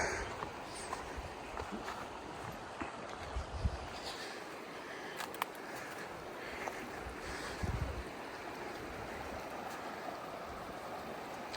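The Elbow River in Canada rushes steadily outdoors, a continuous broad wash of flowing water with faint wind noise and no voices.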